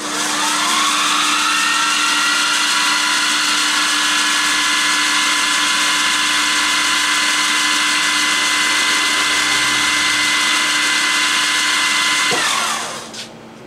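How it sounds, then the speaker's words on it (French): A power drill with a small bit bores into small counterweights for an HO-scale model railway level crossing, a loud steady high whine held for about twelve seconds before spinning down, with no talking. "je vais maintenant forer les deux petits contrepoids"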